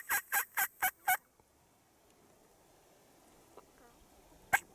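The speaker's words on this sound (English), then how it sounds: "he's still strutting and gobbling at us sitting here in the pickup" Wild turkey gobbling in a rapid burst of five rattling notes from a strutting bird near a parked pickup, then quiet with a faint call and one more sharp note near the end.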